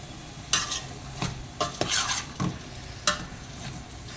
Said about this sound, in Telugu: ఒక 2 నిమిషాలు కలుపుకుందాం